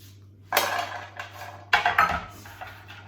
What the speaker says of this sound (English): So I just need to get a baking tray.